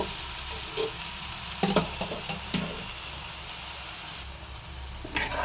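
Spices sizzle and fry in a pan after a splash of hot water, with a steady low hiss and a few brief louder bursts of spatter, close and fairly quiet, no talking.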